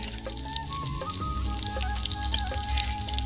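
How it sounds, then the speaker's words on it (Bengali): Sesame seeds crackle and sizzle steadily in hot oil over a medium flame, a dense continuous fry with small pops scattered throughout and no voices. "তেলের উপরে আমি কয়েকটা সাদা তিল দিয়ে দিচ্ছি"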